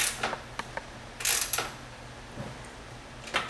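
Bolts on a truck's towing mirror being snugged up with a hand tool: scattered metallic clicks and ratcheting bursts, some close and sharp, separated by short pauses, no speech.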